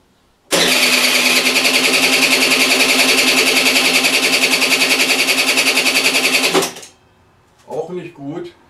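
A Piaggio Gilera Runner scooter engine with fuel injection runs loudly and steadily with a fast, buzzing rattle under light throttle for about six seconds, then cuts off abruptly, followed by brief talking.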